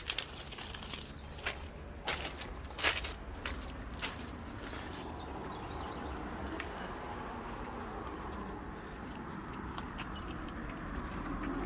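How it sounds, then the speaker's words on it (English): Keys for the entry door of a 2017 Sunseeker 2500TS boat jangle in a burst of light metallic clinks at the start, then settle under steady outdoor background noise. "The entry door requires 2 keys."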